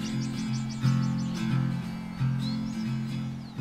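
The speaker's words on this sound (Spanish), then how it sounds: "Almisto, pequeña ave abundantísima en campo abierto." Small open-field bird, the almisto, giving a rapid series of high chirps followed by a few thin calls, faint over a constant low musical drone.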